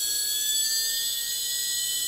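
A Holmes Hobbies Revolver brushless RC motor runs steadily with a piercing, high-pitched whine and a constant airy hiss underneath, close and unbroken, with no speech.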